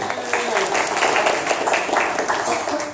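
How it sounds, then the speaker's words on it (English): Applause from the crowd at a 1 Million Cups startup meetup in Daytona Beach, a steady broadband patter of many hands clapping that carries on loud for about three seconds, with no voices standing out. "Round of applause for the organizers."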